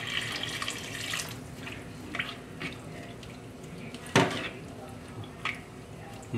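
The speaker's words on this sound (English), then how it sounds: "And then I'm gonna add in some water" Water poured into a cooking pot for a salmon consommé, a brief splashing rush among soft kitchen clatter and quiet, close sounds.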